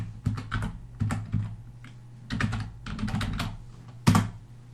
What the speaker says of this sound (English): what you can do is you can type here your keyword